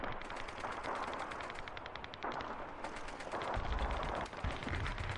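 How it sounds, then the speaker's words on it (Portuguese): Bursts of rapid automatic gunfire in the Call of Duty 2 Stalingrad battle, dense rattling volleys with a few heavier low thumps, continuous and moderately distant, without speech. "Ele deu tiro."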